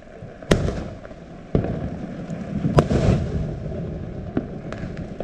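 New Year's Eve fireworks going off outdoors, several sharp loud bangs and pops spaced irregularly over a steady crackling, rumbling background.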